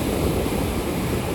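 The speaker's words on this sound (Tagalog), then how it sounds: "Maganda yung maglakad-lakad dito sa tabing dagat kung ganito." Waves wash steadily along a seashore, a continuous broadband rush of surf mixed with wind buffeting the microphone, with no talk.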